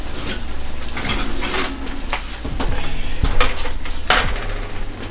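A tray of sweet potatoes being pulled from a home kitchen oven, with metallic clanks and rattles of the pan and rack, several sharp knocks and scrapes over a steady background hum, and no talking.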